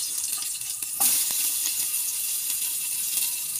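Onion, garlic and ginger sizzling in a little oil in a pot for chicken tinola, a bright, steady hiss of frying with a sharp flare as ingredients hit the hot oil.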